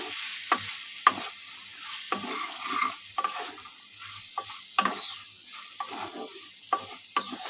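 Vegetables dusted with turmeric and salt fry in a pan, a soft sizzle under frequent sharp clicks and scrapes of a spoon stirring, close and alone.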